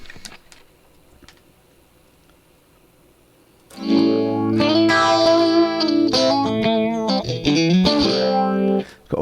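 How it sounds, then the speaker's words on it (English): Guitar played through a Marshall amp model in Tonex with a phaser and compressor in the chain; after a few seconds of near silence with faint ticks, a loud, swirling phased passage of chords and notes plays on alone. "It's got a phaser, and it's also got a compressor on this one as well."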